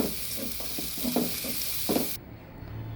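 Grated coconut sizzles and frys with a bean stir-fry (avarekalu palya) in a pan on a gas stove, a steady hiss with repeated stirring scrapes, then the sizzle suddenly drops away to a quiet, muffled hum.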